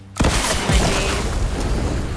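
A grenade in the Fortnite game explodes as a sudden loud boom, followed by a long, rumbling roar of debris that fades slowly.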